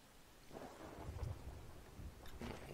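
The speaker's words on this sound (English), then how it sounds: "Looks like we've got a storm close by." A storm rumbles in the pirate video game Sea of Thieves, with low rolling thunder and a wash of rain heard steadily at moderate volume, with no talk over it.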